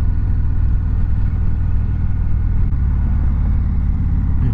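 A 2019 Indian Chieftain Dark Horse motorcycle cruising along the GW Parkway, its engine holding a steady, low rumble over constant wind and road noise, close and even throughout, with no speech.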